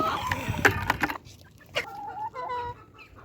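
Several hens cluck and chatter nearby, with a burst of busier calls at first, then softer, drawn-out clucks as warm water is poured for them.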